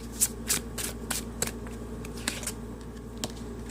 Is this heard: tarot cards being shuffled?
yes